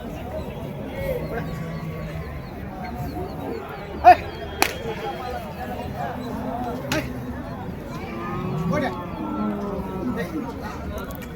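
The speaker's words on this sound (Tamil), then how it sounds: "ஒரு ஜோடி வண்டி காளைங்க." Native breed cart bulls at an open cattle market low and moo amid constant crowd chatter and outdoor bustle, with a couple of sharp whip-like cracks partway through.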